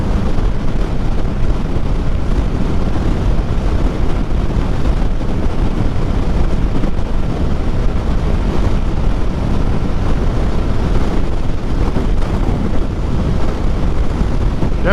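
Loud, steady wind buffeting a helmet microphone while riding a motorcycle along a road, a continuous roar that stays constant throughout.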